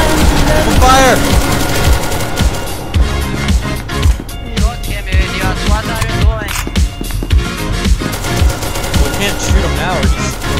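Rapid gunfire rattles in SCP: Secret Laboratory, loud bursts stacking over game music and effects, with close shots cutting in repeatedly throughout.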